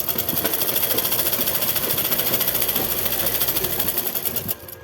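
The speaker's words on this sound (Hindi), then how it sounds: "अब इस तरीके से हम दोनों पार्ट और कलियों को रख करके सिलाई लगा देंगे बिल्कुल बराबर से।" Sewing machine stitching the side panels of a salwar with a half-inch seam, a loud continuous close-up whirring rattle that runs steadily and stops abruptly just before the end.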